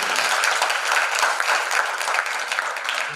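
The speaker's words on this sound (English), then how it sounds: "Okay, now let's give one more big applause to Yamamoto" Sustained applause from an audience at the close of a public health guest lecture, a dense and steady wash of many hands clapping at an even loudness throughout.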